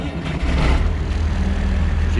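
An old John Deere tractor engine catches and settles into a loud, low diesel rumble, a brief onset followed by steady running close by.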